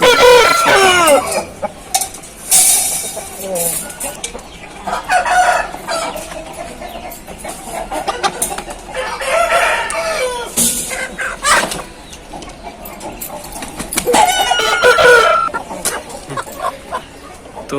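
Aseel roosters and hens on a farm, with loud close crowing in several long calls amid repeated clucking across the stretch.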